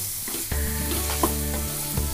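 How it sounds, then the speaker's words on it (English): Radish (mooli) frying with masalas in a pan for mooli egg bhurji, with a steady sizzle under a low hum and several stirring clatters and scrapes close by. "The mooli has nicely fried in all the masalas."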